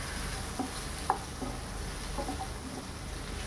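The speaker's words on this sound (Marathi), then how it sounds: "तर हे आपण हलवून मिक्स करून घेऊया." Potato and capsicum stir fry being stirred in a pan: a soft continuous sizzle with a few light scraping clicks of the utensil, quiet and close.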